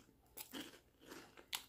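Someone chews chili-lime pork rinds from Walmart with a few close crisp crunches and bites, the rinds soft and fluffy rather than very crunchy, and no speech over the chewing.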